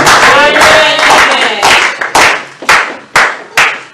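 A church congregation claps to acclaim the Lord, starting as a dense burst of applause, then settling into loud, steady, rhythmic unison claps, roughly one every half second, with voices mixed in early on.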